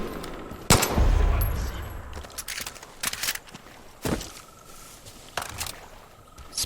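Gunfire in the video game Far Cry 5, several sharp shots spaced a second or so apart, with one heavier blast and rumble near the start, no talking.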